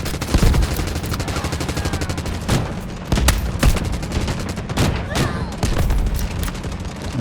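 Rapid bursts of automatic gunfire and scattered single shots in a Delta Force Mobile match featuring the KC17 rifle, loud and dense throughout, with a few heavier booms.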